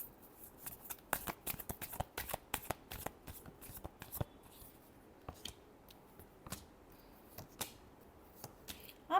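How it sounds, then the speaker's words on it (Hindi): A deck of tarot cards is shuffled close up, with sharp papery flicks and riffles that come quickly at first and then thin out into sparser taps, heard alone. "Last shuffle."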